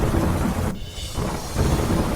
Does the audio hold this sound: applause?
no